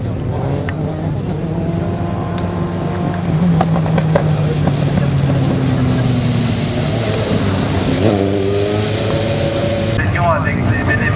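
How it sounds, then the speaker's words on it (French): A slalom race car powered by a motorcycle engine revs high at a 2014 event in Plessé, its loud buzzing whine rising and falling through gear changes, with talk heard over the engine. "Ces moteurs de moto qui n'ont pas grand chose, mais dès que l'on monte dans les tours, eh bien, ça pousse énormément"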